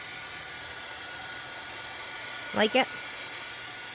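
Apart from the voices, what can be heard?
dryer running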